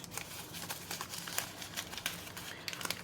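Old gauze bandages from a 150-year-old antique kit are unwrapped up close, with soft, irregular crinkling and rustling that stays quiet throughout and has no talk over it.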